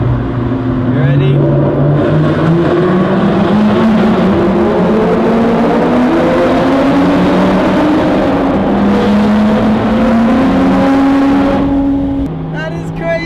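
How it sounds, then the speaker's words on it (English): Ferrari Speciale and Lotus Exige Sport 380 accelerating hard through road tunnels, engines rising in pitch and echoing loudly off the walls, with gear changes mid-pull and a voice talking over part of it. "We got the Speciale in front of us, which sounds really nice."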